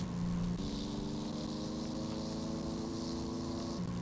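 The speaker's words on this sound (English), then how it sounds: "The engine sounds a little bit hot." Aircraft piston engine droning steadily in the X-Plane 11 flight simulator, running a little hot, a constant tonal hum that shifts pitch slightly a couple of times, alone and fairly quiet.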